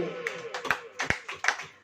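A small audience at a Hindi church sermon clapping, a handful of sharp, uneven hand claps spaced across under two seconds, fairly close.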